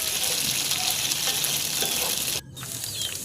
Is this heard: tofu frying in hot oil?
yes